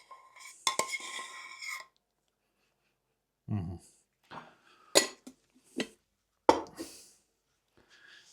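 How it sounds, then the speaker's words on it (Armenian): Vitamin salad stirred in a bowl. Sparse, separate scrapes and clinks of a utensil come in short bursts with quiet gaps, and a voice is briefly heard at the start. "Եվ լավ պետք է որ խառնենք"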